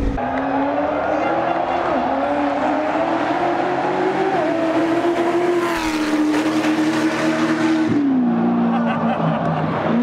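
A car engine revs hard and continuously at a tuning show, a loud sustained roar whose pitch rises and falls with the throttle, close by and filling the whole stretch with no pause.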